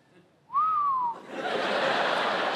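A person whistles in imitation of a worried mechanic, a single clear falling whistle lasting about half a second, followed by a broad breathy hiss-like sound.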